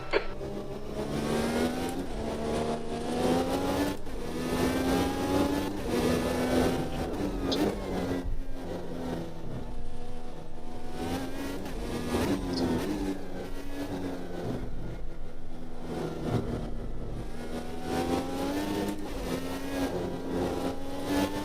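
Indy race car engine in the Automobilista 2 sim racing game, revving and shifting continuously at close range during a practice lap, with engine pitch rising and falling steadily throughout.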